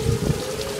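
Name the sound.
heavy rain during a storm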